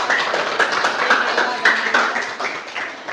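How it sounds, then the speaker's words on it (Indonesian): A classroom audience claps for a student group that has just finished presenting during a teacher-training practice session, a steady, dense patter of many hands that lasts the whole stretch at an even, moderately loud level. "Terima kasih, beri tepuk tangan untuk kelompoknya."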